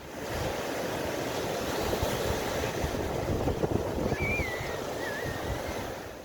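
Shallow waves of the Bay of Bengal washing in a steady broadband rush close by, with wind noise on the microphone and a faint bird chirp near the end.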